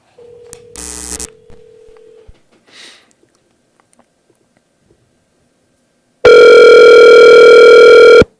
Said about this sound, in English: I'm calling from my Google Voice.